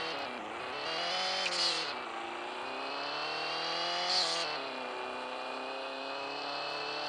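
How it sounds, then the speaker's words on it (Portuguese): A remapped Porsche accelerates hard in a street drag race, the engine note climbing through the gears with brief gaps at each shift, loud and sustained, with no voices. "ele me emprestou de eu fazer esse racha pra ver qual carro é mais forte"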